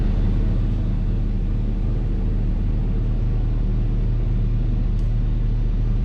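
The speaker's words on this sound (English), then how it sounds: "I gotta back in to the shed here and get the trailer hooked up." A truck reverses into a shed at an old dairy farm to hook up a trailer, heard as a loud, steady, close engine rumble that barely changes, with no one talking.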